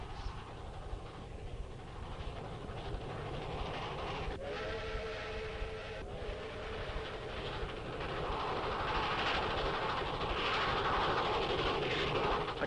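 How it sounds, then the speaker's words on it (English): A train runs past on a railroad in rural Alabama, a continuous rumble of wagons with a whistle or horn blast in the middle, the sound building louder as it goes. "Sure, he was excited by the power, the speed, and the length of it"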